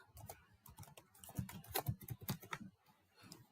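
Keyboard typing while a VPN tunnel shared secret password is entered during L2TP VPN setup on an NSE 3000: a fast, irregular run of close, crisp key clicks with a few short pauses, no voices.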